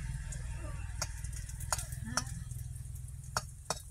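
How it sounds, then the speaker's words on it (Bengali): Curry with onions and chillies fries in a wok, a low steady sizzle under scattered sharp clicks and scrapes of a utensil stirring, with faint background sounds and little talk. "দুপুরে এই তরকারি রান্না করতেছি"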